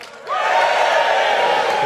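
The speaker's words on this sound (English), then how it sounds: "Give it a cheer if you love sport." A studio audience at a comedy stand-up show about sport breaks into loud, sustained cheering and whooping that starts abruptly after a brief quieter moment and holds steady to the end.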